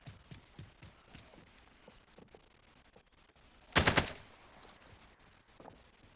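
Gunfire in Call of Duty Warzone, a scatter of light shots followed by a loud, close burst of rapid automatic fire, then quieter game sounds.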